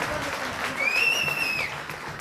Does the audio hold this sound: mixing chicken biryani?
no